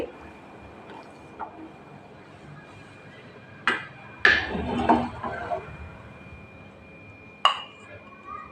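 Ragi ambil is served onto a serving plate with several sharp clinks and knocks of a utensil against dishes. The sounds come in a few isolated bursts over a quiet background hiss, and the cluster in the middle is the loudest.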